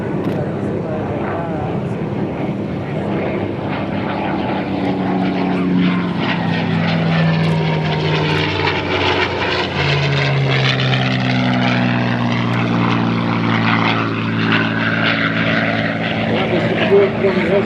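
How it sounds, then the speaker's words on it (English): A P-51 Mustang fighter performing airshow aerobatics, its propeller engine roaring continuously with rising and falling pitch sweeps as it climbs, dives and passes overhead, while an announcer speaks throughout. "that Mustang speaks the story of the airplane better than I ever will, and Scott wants you to hear it"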